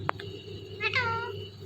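A talking parrot imitates a cat's meow, a single clear, drawn-out mewing call rising then falling, heard close over a steady low background hum after a short sharp click.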